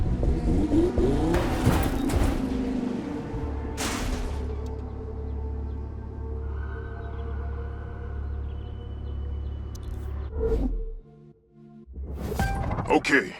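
Car engines idling and revving at the start line of a street race in the video game The Crew 2, a continuous low engine drone with rising revs and whooshing bursts, cutting out briefly near the end.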